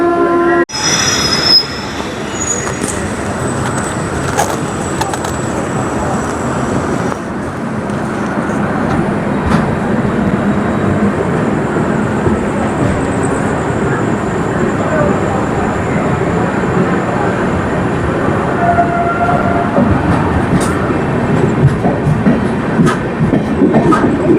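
The Rockfort SF Express superfast train departs a station, its wagons rolling with a steady loud rumble, rhythmic wheel clatter and squealing wheels, heard close up throughout.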